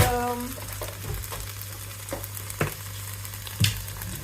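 Onion and corn with a little water cooking in a pan for a quiche Lorraine, giving a soft, steady sizzle with a low hum and a few sharper pops and clinks throughout.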